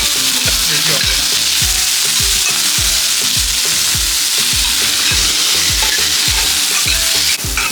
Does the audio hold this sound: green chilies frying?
yes